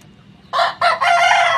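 A pet hen, restless before laying an egg, lets out three loud, close clucking squawks in quick succession after a quiet start.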